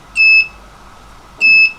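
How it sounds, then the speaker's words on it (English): A buzzer on an ESP32 electronics board sounds two short, loud, pure electronic beeps, evenly spaced about a second and a quarter apart, with near silence between them. "Buzzer, obviously."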